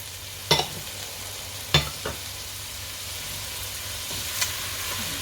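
Spring onions, bacon and mushrooms frying in a pan, a low steady sizzle broken by a few sharp utensil knocks and scrapes as the mixture is stirred.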